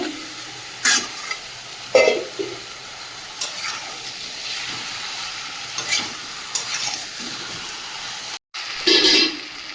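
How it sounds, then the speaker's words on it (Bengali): Meat stir-fried in a pan with previously fried potatoes, a steady sizzle under repeated scraping stirs of a spatula at irregular intervals, close and moderately loud, no talk. "ভালোভাবে কষিয়ে নেব ভেজে রাখা আলুগুলো দিয়ে দেব"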